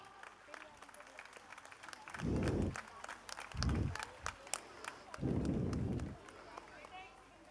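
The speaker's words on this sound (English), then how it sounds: "Let's give a huge round of applause to our young." An audience at a school awards function claps for young students in three short rounds of applause, with an announcer speaking between the bursts.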